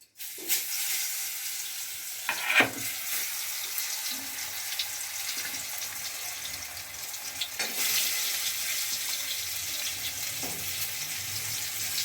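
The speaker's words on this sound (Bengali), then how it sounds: "এবার একটা একটা করে আমি বেগুনগুলো কড়াইয়ের মধ্যে দিয়ে দেবো" Brinjals frying in hot oil in a kadai give a steady, fairly quiet sizzle, with a few sharp clinks and soft spatters over the hiss and no talk.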